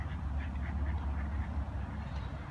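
Several ducks quack in a quick, repeated chorus against a steady low background rumble, close by and without voices.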